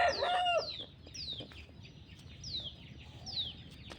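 A hen clucks in a short burst at the start, followed by repeated high chirping calls at a steady pace over faint background noise.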